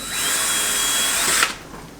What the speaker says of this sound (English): I'm actually gonna use a drill and drill a small hole in the bottom of my oil filter.